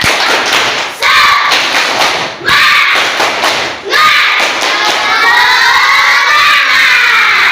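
Schoolchildren in a classroom perform a rhythmic spirit clap chant, loud and close, with bursts of clapping and shouted voices broken by short pauses, then a sustained rising group shout.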